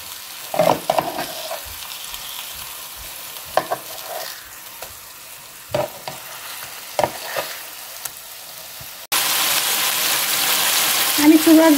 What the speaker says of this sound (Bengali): এভাবে করে আমি কয়েকবার ঘুরিয়ে ভেজে নেব, যাতে করে পুড়ে না যায়